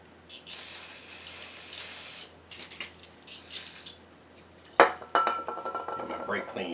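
Aerosol brake cleaner hisses steadily onto a part of a 1974 Suzuki TC 125 motorcycle under rebuild. A sharp knock then follows, trailed by small clicks and rattles.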